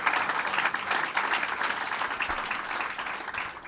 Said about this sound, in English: Howard Zemsky, let's give him a round of applause.